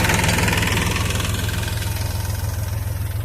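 A large tractor engine idles steadily with a deep, rhythmic low chugging, close and loud throughout, no voices.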